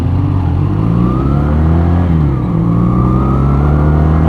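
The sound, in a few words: motorcycle engine revving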